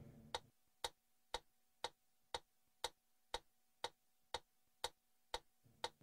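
Metronome ticking on a Korg arranger keyboard: twelve sharp, evenly spaced clicks at about two per second, clear and close, with a brief burst of other sound at the start and end.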